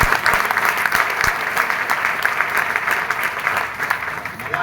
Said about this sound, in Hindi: आप भी लोग आज खड़े होके ताली बजाए।